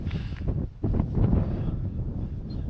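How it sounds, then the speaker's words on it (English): Wind gusts buffet the microphone at a wild camp on Esk Pike in the Lake District, rising and falling in low, rough surges, close and steady without speech. "The wind's changed direction a bit."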